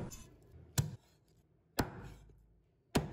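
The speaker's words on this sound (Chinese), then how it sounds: "然后改刀把它剁成小块" A cleaver strikes chicken on a chopping board three times at roughly one-second intervals, each a sharp, close thud that fades quickly, set against a quiet background.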